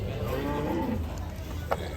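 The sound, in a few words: water buffalo mooing, unloaded from truck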